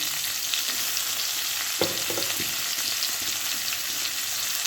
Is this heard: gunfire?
no